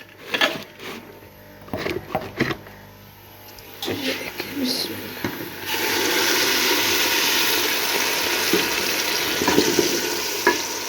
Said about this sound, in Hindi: पेस्ट मैंने डाल दिया, इसको अच्छी तरह भूनूंगी।